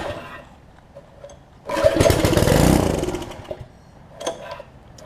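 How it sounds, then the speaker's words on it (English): A 6.5 hp Briggs engine on a Karcher pressure washer, with a frozen throttle cable and a carburettor needing work, is pulled over and briefly catches, buzzing loudly for about a second before dying back to quiet background noise. "So y'all heard it come on there, so we at least know that the engine will run."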